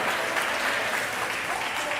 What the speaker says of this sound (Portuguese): Você pode aplaudir a Ele nessa noite, nesse lugar